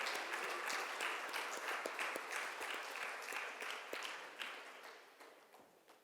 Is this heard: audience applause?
yes